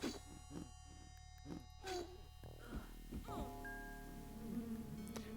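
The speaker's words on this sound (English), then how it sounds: "Bees!" Insect-like buzzing from bees in the Lands of Lore: The Throne of Chaos video game, layered with game tones and chimes, fairly faint and continuous across the clip.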